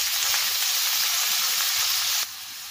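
Green beans (val) dropped into a hot kadhai with cumin roasted in oil over a low gas flame give a loud, steady sizzle and hiss that drops off sharply near the end.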